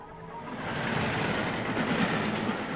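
A train racing at 100 miles an hour into a derailed yellow test flask during a crash test, heard as a loud, steady roar of rolling rail noise with dense rumble that holds across the whole stretch.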